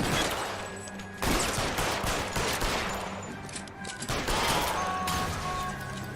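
Heavy gunfire in an L.A. Noire shootout, with dense overlapping shots and bursts that keep up without a break, loud and close.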